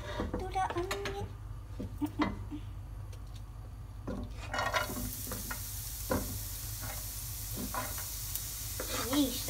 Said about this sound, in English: Saute in the pan.